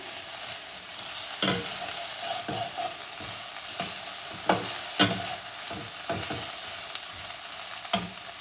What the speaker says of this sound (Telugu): దొండకాయ మనకి కొంచెం మగ్గింది ఇప్పుడు నేను కొంచెం టర్మరిక్ వేసుకుంటున్నాను సో దీనిని కూడా మళ్ళీ మిక్స్ చేసేసుకొని